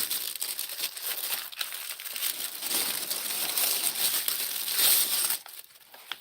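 Tissue paper crinkles and rustles continuously, close up, as a package is unwrapped, with a few sharper crackles and a quieter tail at the end. No one speaks.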